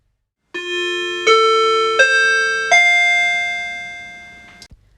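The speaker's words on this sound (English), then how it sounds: "At 10 minutes, you will hear a chime. This indicates time for the student to move on to the examination." An exam-timing chime rings four clear, close tones in a stepped descending pattern, each note ringing on and fading slowly, with no voices.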